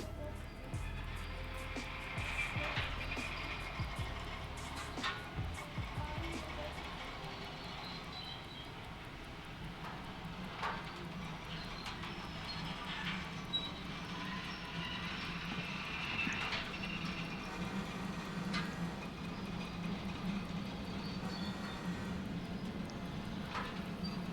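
A locomotive in the train simulator game Derail Valley pulling away, a low steady engine rumble with rhythmic mechanical clanks and a heavy start at the beginning, the drone continuing evenly under occasional clicks.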